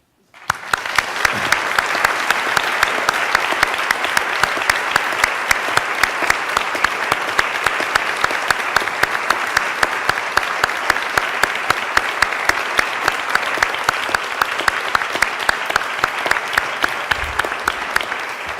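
Sustained, dense applause from a large audience at a university tribute event, loud and even clapping continuing for the whole stretch without talk over it.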